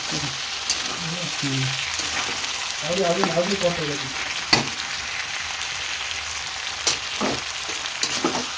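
Chicken pieces fry in a pan with a continuous, steady sizzle and occasional stirring clatter, while a voice talks briefly over the frying.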